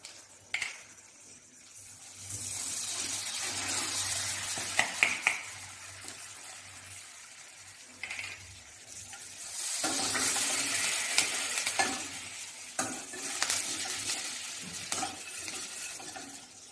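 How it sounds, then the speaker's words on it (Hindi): Butter tadka of mustard seeds, asafoetida and curry leaves sizzling in a pan for a Hyderabadi paneer dish, bursts of frying crackle rising and fading with stirring, close and fairly loud, no talking. "अभी हम इसमें राई, हींग और कड़ी पत्ता डाल के तड़का लगाएंगे।"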